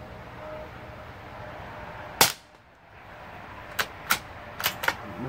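A Marlin XT-22 bolt-action rifle firing CB short rounds at about 10 yards gives one sharp crack, then several quieter quick pops a few seconds later over a faint outdoor background.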